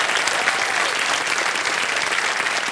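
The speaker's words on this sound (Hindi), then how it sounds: "तालियां बजती रहें" A television quiz-show studio audience applauds, dense sustained clapping filling the room at steady loudness from start to finish.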